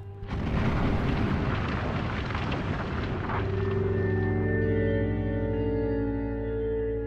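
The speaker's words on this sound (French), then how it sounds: "Des jets d'autant plus majestueux qu'ils sont accompagnés de ce grondement sourd." A volcanic gas jet erupts with a roaring hiss, then settles into a deep, sustained rumble that drones on steadily for several seconds.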